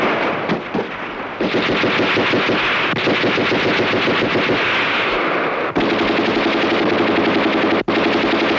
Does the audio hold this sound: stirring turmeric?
no